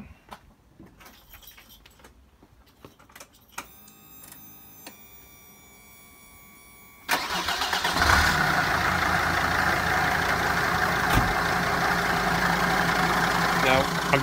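A 2002 Mercedes-Benz Sprinter 316CDI diesel Auto-Trail Scout motorhome cranks briefly and catches, settling into a loud, steady diesel idle close by after quieter rattling and handling noises beforehand.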